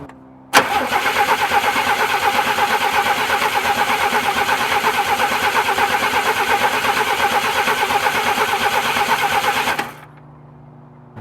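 A 1978 Chevy C10, off the road for 24 years, has its engine cranking over for nearly ten seconds with a loud, steady, rhythmic churning that never catches, then cuts off.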